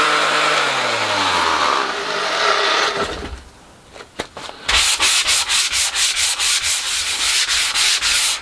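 Hand sanding of a weathered wooden shed arch after its surface has been scraped: a loud, close abrasive rasp, first a long continuous rub, then a short pause and a rapid train of rhythmic back-and-forth strokes.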